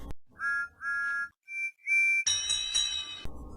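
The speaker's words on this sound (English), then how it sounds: "The engines whistled excitedly." Steam engine whistles sound in short bursts, two paired toots, then two thinner ones, followed by a brighter, richer chord-like whistle, all close and fairly loud against silence.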